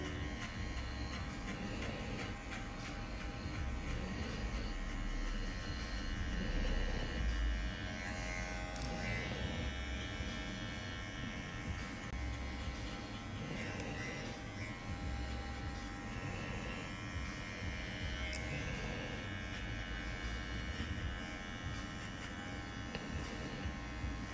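A budget cordless hair clipper, priced at about $50, buzzes steadily and close up throughout the clip, a continuous motor hum with faint fluctuations and no talking.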